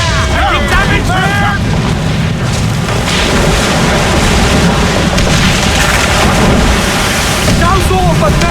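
Ship cannons firing in the Assassin's Creed IV Black Flag video game: continuous loud booming barrages that blend into a dense roar, with shouted crew voices over the battle.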